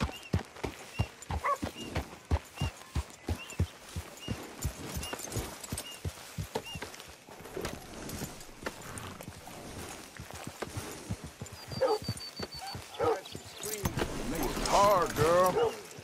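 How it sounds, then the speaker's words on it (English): Horse hooves in the video game Red Dead Redemption 2, a steady rhythmic clip-clop at walking pace, close and clear, with a brief whinny and voices talking near the end. "Fine looking steed you got there."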